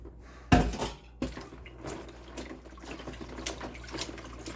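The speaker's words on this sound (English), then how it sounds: "I'm going to dump in some ice water and cool it down" Ice water splashes and pours briefly over broccoli, followed by trickling and light clinking in a bowl, close by and moderately loud.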